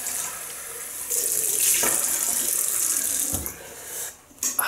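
Tap water runs steadily into a sink as someone rinses off after a shave with a Gillette Slim Twist double-edge razor; the close, even rush cuts off near the end, leaving a few faint drips and clinks.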